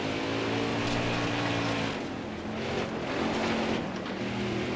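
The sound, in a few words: race car engine, throttle feathering in NASCAR Heat 4 video game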